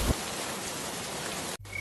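Monsoon rain falls as a dense, even hiss of steady downpour, fairly loud, then cuts off abruptly near the end into a quieter hum.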